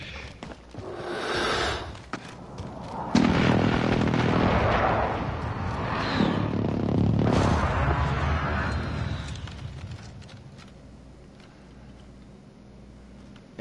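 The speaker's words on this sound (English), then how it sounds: "Enemy precision airstrike." Heavy booming explosions from an enemy precision airstrike in the video game Warzone, with loud rumbling blasts rolling through the middle of the clip and fading toward the end.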